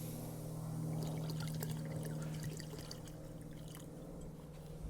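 A can of A&W root beer and a cup of Pendleton whiskey pour steadily into a pot for a ham glaze, a continuous splashing trickle over a low background hum.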